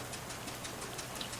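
Rain in the game Shadows Over Loathing, a soft, steady patter with faint drop ticks, continuous and low in level.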